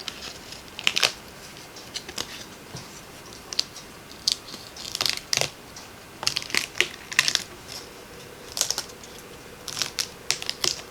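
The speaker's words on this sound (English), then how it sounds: "I am going to start peeling away off of the dryer sheet" Crinkly, crackling peeling noises as a die-cut piece is peeled off a dryer sheet, in irregular bursts, close and moderately loud, against a quiet background.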